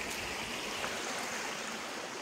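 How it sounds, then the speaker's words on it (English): A creek flows beside a hiking trail on a backpacking route in Pennsylvania, its steady broadband rush filling the clip, close and continuous with no talk. "But this creek that I'm walking along right now, so pretty."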